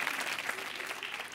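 A studio audience applauds a magic show on a French TV program, giving dense, steady clapping throughout, with faint voices underneath.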